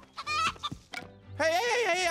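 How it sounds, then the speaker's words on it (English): Chickens cluck in short bursts, then a longer, rising cackle toward the end, fairly close and loud, in the animated film Ferdinand. "I just finished herding those chickens"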